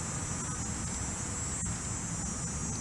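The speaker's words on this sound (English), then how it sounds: "You can hear the cicadas." Outdoors along a memorial drive, cicadas give off a steady, high, continuous buzzing drone throughout with no break or talk, spread evenly as a distant background chorus.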